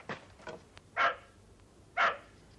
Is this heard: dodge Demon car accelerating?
no